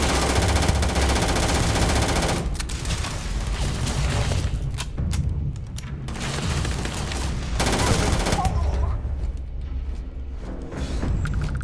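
Rapid bursts of gunfire in the video game Starfield crackle almost continuously, loud and close, with brief lulls between volleys and faint voices underneath.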